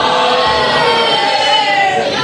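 A dense crowd at a live wrestling event shouts together in a loud, sustained roar that fills the whole moment without any break.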